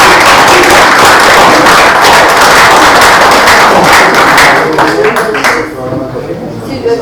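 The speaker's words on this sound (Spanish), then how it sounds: "Un aplauso para la poeta Amparo Romero." Loud, sustained applause from a book launch audience celebrating a poet, dense clapping that fills the room for several seconds before thinning out and fading near the end.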